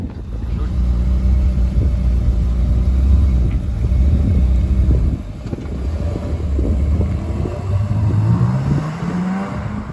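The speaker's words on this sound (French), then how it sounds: "la vieille voiture aussi qui part. Je crois que c'est une Buick" An old Buick's engine rumbles loudly nearby at a motor show, then revs and rises in pitch as it pulls away.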